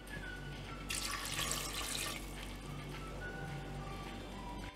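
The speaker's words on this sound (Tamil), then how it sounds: "இந்த கடலை வேகற அளவுக்கு தேவையான அளவு தண்ணி ஊத்திக்கலாம்" Water pours in a brief, splashy rush lasting about a second into a pressure cooker of chickpeas, then stops, leaving a quiet hum and faint clinks.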